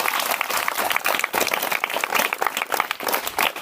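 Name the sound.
audience clapping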